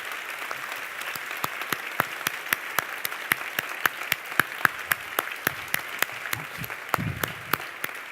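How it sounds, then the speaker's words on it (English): A crowd gives the speakers rhythmic, fairly slow unison clapping as they are called on stage: crisp, evenly spaced claps over a steady applause bed, with no talking. "Please give them a big round of applause."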